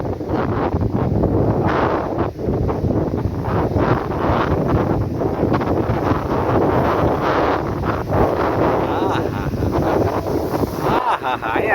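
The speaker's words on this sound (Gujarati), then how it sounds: "મોજા ઉછળે છે અત્યારે." Wind and waves at the seashore in Dwarka: a continuous, loud roar of wind buffeting the microphone over crashing surf, with no clear pauses.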